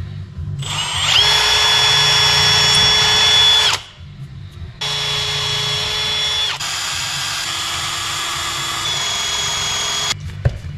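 A power drill bores into wood while building a guitar wall hanger, loud whining bursts with a steady motor pitch, stopping and restarting three times in close succession, without any talk.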